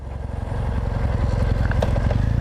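A Triumph Bonneville motorcycle engine runs nearby with a steady, throbbing low-pitched rumble and a regular beat, with no talk over it.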